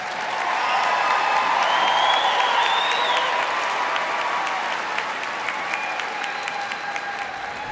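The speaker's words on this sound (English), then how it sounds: "Please give another round of applause to our master's degree recipients." A large commencement crowd applauds master's degree recipients at a spring university graduation ceremony, with dense, sustained clapping and scattered cheers filling the whole stretch, strongest early and easing slightly toward the end.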